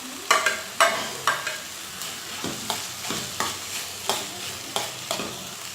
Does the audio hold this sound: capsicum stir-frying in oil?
yes